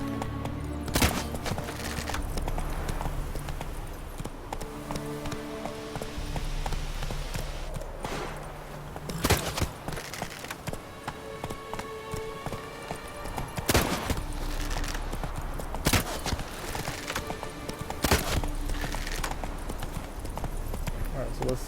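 Roach the horse galloping in The Witcher 3: Wild Hunt, steady clip-clopping hoofbeats running throughout amid game music and sharp impacts, with a person talking over it.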